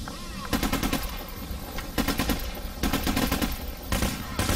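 Rapid automatic gunfire from a Payday The Heist bank robbery shootout, bursts of machine-gun shots repeating loudly and close with brief gaps, while players talk over the shooting.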